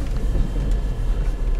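A Lada Niva pulls away in first gear as the clutch is let out, a steady low engine rumble droning close by with no talk.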